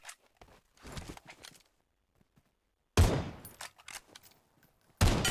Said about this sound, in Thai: ปืนยิงยาก อยา่นะปืนกระบอกนี้นี่